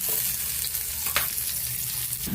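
Leftover rice frying in a pan with garlic for sinangag, a steady close sizzle with stirring scrapes and one sharp clink partway through, no talk.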